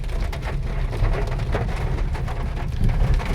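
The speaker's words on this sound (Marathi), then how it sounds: "इकडे सफाळ्यामध्ये खूप पाऊस आहे वारा पाऊस आहे" Steady heavy rain pours with a constant hiss and low rumbling wind gusts throughout in Safale, Maharashtra, no voices.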